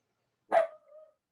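A dog lets out a single short bark at close range, trailing into a brief tonal tail, then silence.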